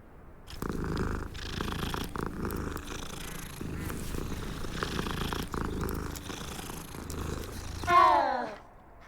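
A video game cat purrs steadily and up close for most of the clip, a low continuous rumble with a brief higher chirp near the end.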